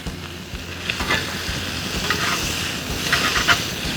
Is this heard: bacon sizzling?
yes